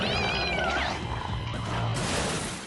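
A cartoon cat meows in a stretched, wavering cry that bends downward, loud and close, with busy background music and effects beneath it.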